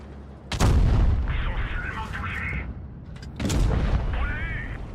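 Tank ammo rack explosion in an online tank battle game, two heavy booming blasts with rumbling roar, loud and close.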